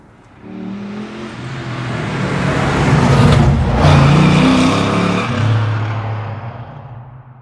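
A 1972 Chevy Nova engine revs through a 3-inch exhaust exiting at the rear, rising to a loud throaty roar mid-way and then easing off, close and without talking.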